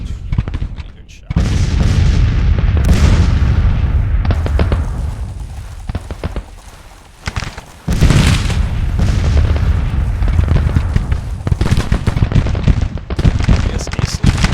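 Civil War cannons boom in the strategy game Grand Tactician, heavy repeated blasts and rumbling fire rolling on throughout, with a brief lull midway before the barrage resumes loud and dense.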